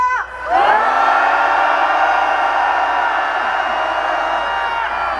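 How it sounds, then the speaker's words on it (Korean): Large crowd at a Gwanghwamun candlelight rally roaring and cheering in one loud, sustained wave of shouts and whoops that swells after a brief lull and holds steady throughout. "여러분의 힘찬 함성으로 시작하겠습니다"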